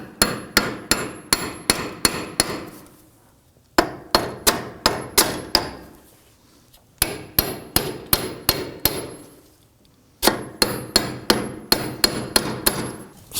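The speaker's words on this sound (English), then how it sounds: "we're going to go ahead and use a hammer, and we're just going to give this hub a few bonks here" A hammer repeatedly knocks a wheel hub loose from the steering knuckle of a 2005-2009 Subaru Legacy, with sharp metallic blows in four quick bursts of about six strikes each and short pauses between bursts.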